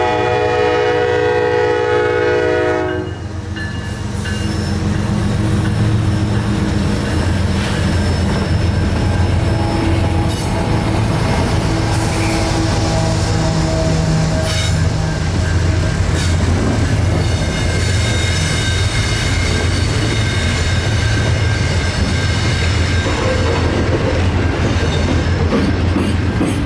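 CSX mixed freight train Q580 rolls northbound through Dalton on the W&A line, a loud, steady rumble of wheels and railcars close by, with a horn-like tone at the start and squealing, clattering wheels throughout.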